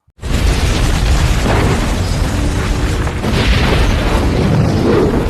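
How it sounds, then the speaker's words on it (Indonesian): A car explodes outside in a film scene: a sudden loud boom gives way to a sustained, dense roar of blast and debris that fills the whole stretch, with no talking. "tiba-tiba mobil di luar meledak"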